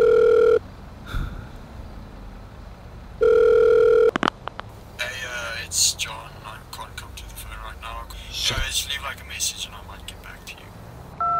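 A telephone rings twice with sharp electronic tones during a call in GTA V, followed by clicks and a faint voice talking on the line.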